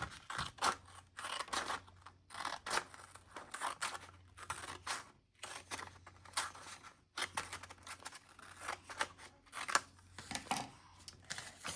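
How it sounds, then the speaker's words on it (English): Scissors snip through paper in short, irregular bursts while a square is cut for a paper fortune teller craft, close and fairly quiet, with brief pauses between cuts and a faint low hum underneath. "And so you take your scissors"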